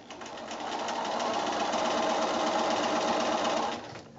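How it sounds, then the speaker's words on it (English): A sewing machine runs steadily, stitching a quilt block along drawn lines, its fast mechanical whir rising in and holding evenly for a few seconds before stopping. "So then I'm going to come back and sew my other two drawn lines."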